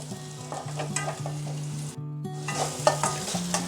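Chopped tomato fries with ginger-garlic paste in a pan for goat head curry, giving a steady sizzle broken by scraping stirs and a brief drop-out midway, with a low tonal drone underneath.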